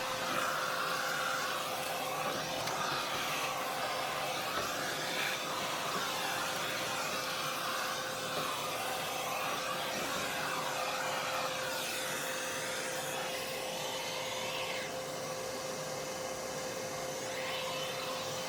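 An industrial vacuum cleaner working over the lower part of a Bambu Lab H2D 3D printer, a continuous close motor roar and rushing suction with a steady whine, the airflow pitch shifting as the nozzle is moved around.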